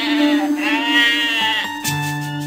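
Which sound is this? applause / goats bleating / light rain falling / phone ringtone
goats bleating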